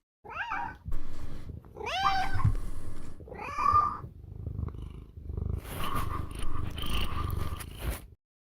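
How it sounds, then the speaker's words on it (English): A house cat close to the microphone lets out several short, strained meows and cries, followed by a steady, low purring rumble. "we've got to hear one of his many kitties"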